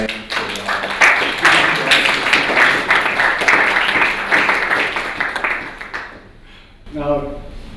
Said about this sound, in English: please give an applause to Mrs. Nolane